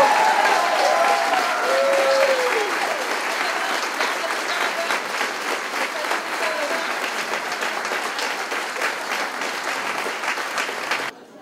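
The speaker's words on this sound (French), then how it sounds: "Une bonne main d'applaudissements pour Nathan Piché!" Warm applause from the crowd at a wine and cheese benefit event, sustained clapping with a brief whistle-like tone early on, ending abruptly.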